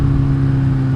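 A Honda Grom motorcycle engine held at full throttle gives a loud, steady, buzzing drone with strong low harmonics, continuous and close for a brief moment, no voices.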